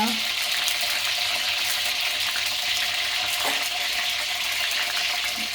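Two cloves and a cardamom pod crackling and spitting in hot oil, a loud, dense, continuous sizzle with fine popping, heard up close with no voices.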